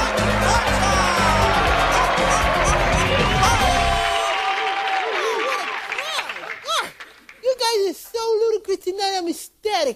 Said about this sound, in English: Let's give a big hamburgeristic applause for Iron Mike!